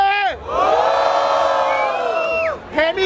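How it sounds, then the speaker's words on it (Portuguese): Crowd at a freestyle rap battle in Barueri erupts into loud cheering, whoops and shouts, rising after a brief lull and swelling into sustained near-field roaring with high yells riding on top. "Barulho para as rimas do WM."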